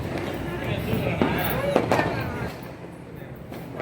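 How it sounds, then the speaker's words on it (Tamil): New Year firecrackers burst in a few sharp cracks amid noisy outdoor night ambience, with people talking and shouting around them. "பட்டாசு வெடிக்கணும்."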